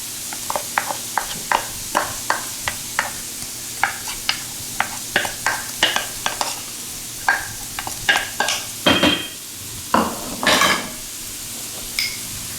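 Chopped onion and celery sautéing in a pan for a shrimp and quinoa dish, a steady sizzle under repeated scraping strokes of a spoon stirring the mix, close and fairly loud, with no talking.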